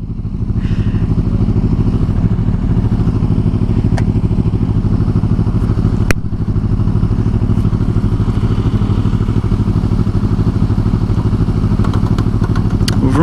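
A motorcycle engine runs loud and close while the bike waits at a traffic light, a steady low throbbing rumble with a few sharp clicks.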